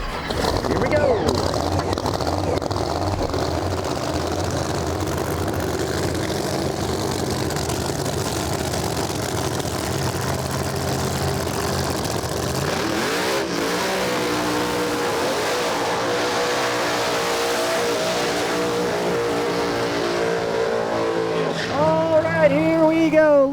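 No-prep drag race cars at US 131 Motorsports Park rumble and idle loudly at the line, then roar and rev as they launch, with a crowd and an announcer talking over the engines.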